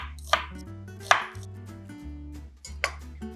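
Knife chopping onions on a board, a few sharp cuts spaced apart over a low background hum, close and clear.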